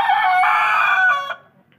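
A white farm hen or rooster gives one loud, close, drawn-out vocal call lasting about a second, ending with a short cluck, with no other sounds around it.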